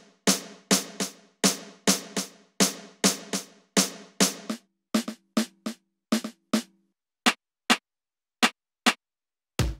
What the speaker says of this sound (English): Then there's various snare layers.